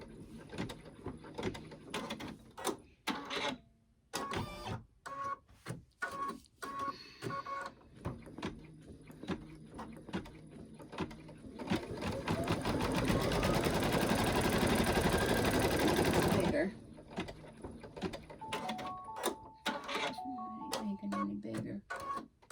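A home embroidery machine sews a satin stitch around the eye of a monkey design on an in-the-hoop baby bib, giving a steady, rapid mechanical whirring for about five seconds, with a person talking before and after.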